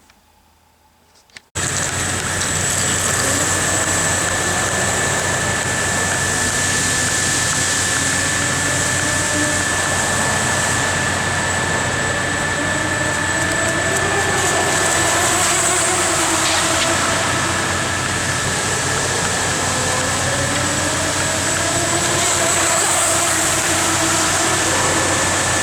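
A Hobby King Centurion RC boat's electric motor runs steadily for a long stretch after a brief quiet start, a loud continuous whine with a high steady tone and shifting pitch, no speech.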